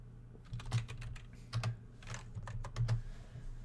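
Typing on a computer keyboard to enter a search, a close run of uneven key clicks in small bursts with a few louder taps.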